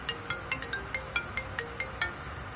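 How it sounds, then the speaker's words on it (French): A mobile phone ringtone chirps in a quick, repeating pattern of short bright electronic notes, fairly soft and steady with no talk over it. "Votre téléphone sonne."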